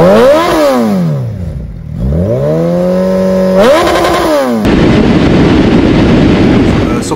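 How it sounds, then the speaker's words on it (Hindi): A 2021 Suzuki Hayabusa with a Yoshimura exhaust, revving loud and close, rising and falling in repeated throttle blips, then settling into a rough, steady, roaring idle. "कैसी रही एग्जॉस्ट की आवाज़"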